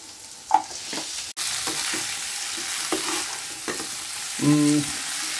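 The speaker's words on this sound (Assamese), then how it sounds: "এতিয়া এইখিনি মই এই মাছ ফ্ৰাই কৰি থোৱা মাছখিনি ইয়াত এড কৰিম।" Fried fish added to a pan of browned onion, garlic and ginger sizzles steadily while a spoon stirs and scrapes, with one sharp clack partway through.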